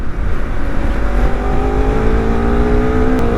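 A 250cc motorcycle engine drones steadily while riding, its pitch slowly rising as it accelerates, loud and close with wind noise.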